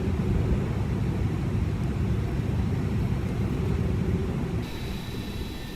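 The Airbus A300 in a flight simulator game sends out a steady, loud, broadband rumble of engines and airflow that eases slightly near the end.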